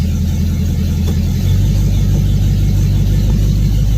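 A car engine idles steadily up close, a continuous low rumble with a slight rise in level partway through, no talking over it.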